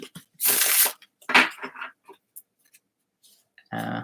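A deck of tarot cards is shuffled by hand in a few quick riffling bursts with short pauses between them, close and crisp, followed by a soft voice near the end.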